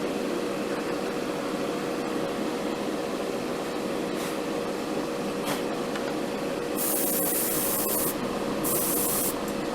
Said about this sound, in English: That's spraying more like our normal airbrush.